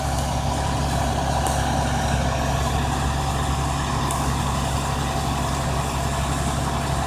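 A tow truck's heavy engine runs steadily at a crash scene while its winch pulls a crashed truck, a loud, constant low rumble throughout with faint clanks.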